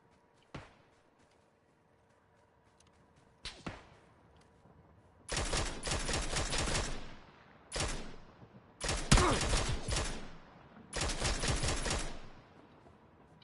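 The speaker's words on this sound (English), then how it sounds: "Somebody else shooting?" Gunfire in PUBG: two isolated distant shots, then several sustained bursts of rapid automatic fire separated by short pauses over a quiet background.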